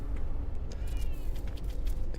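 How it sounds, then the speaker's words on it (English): A cat meows faintly a couple of times over a low, steady background rumble. "Can you hear that cat?"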